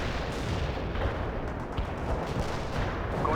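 A dense, continuous artillery barrage rumbles in the World in Conflict strategy game, with overlapping booms and blasts merging into a steady loud roar.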